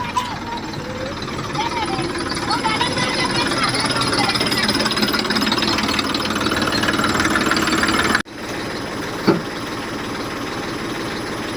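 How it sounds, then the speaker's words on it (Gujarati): A tractor engine runs steadily nearby, a continuous low, knocking idle that holds for most of the stretch before a brief cut, with people talking over it. "ટ્રેક્ટર આવી ગઈ છે હવે"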